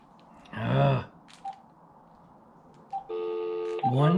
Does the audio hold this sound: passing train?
no